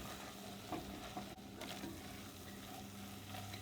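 Flour cooks in a pot for a chicken pot pie, giving a soft, low sizzle with faint stirring scrapes and one brief knock, quiet and steady throughout.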